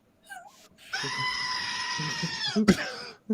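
A goat screams in a single long, loud, wavering cry that holds steady for nearly two seconds before breaking off, with softer bleats and a brief sharp bleat near the end.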